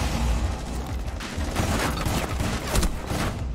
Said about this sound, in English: How many times do I gotta shoot this guy in the head?